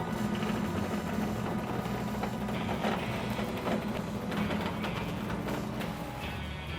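An embroidery machine runs a contour trace on a cap hoop, giving a steady, continuous mechanical whir and hum with faint rhythmic ticking throughout.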